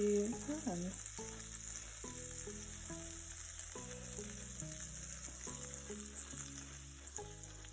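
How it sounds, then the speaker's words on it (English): Steady sizzling of pancake batter frying in a hot pan, a constant crackle running throughout while music-like tones play over it. "the pancake is kind of frying a little bit in the pan"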